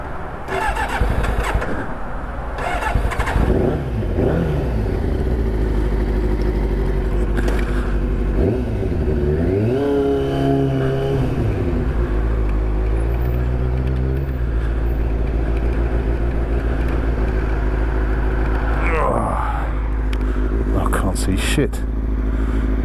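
Kawasaki ZX6-R motorcycle engine starts and runs with a steady loud idle, rising and falling revs and gear changes as the bike rides off, with wind and a voice talking over it.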